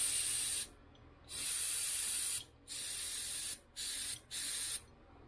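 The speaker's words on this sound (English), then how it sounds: "if long as you hold it right side up, it just blasts air" Compressed air blasts in a few sharp bursts through a Thermacell Backpacker butane heater being cleared of a no-gas fault, loud close hissing with short pauses between, the last two bursts quick and short.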